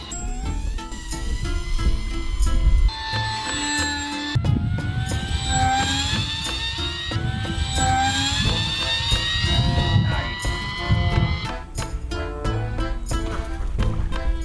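A small electric motor on an RC airplane taxiing across water, a steady high-pitched whine rising and falling in pitch, loud and close throughout with splashy noise underneath.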